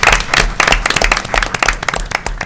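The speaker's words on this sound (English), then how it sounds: "they deserve a big round of applause" Audience applause at a board of trustees meeting for the team that worked on a grant: loud, dense, irregular clapping from a nearby crowd, sustained throughout without a break.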